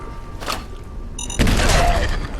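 Land mine going off in Fallout 4: a soft thump early on, then a heavy, loud explosion roar that bursts in partway through and rumbles to the end, preceded by a short beeping tone.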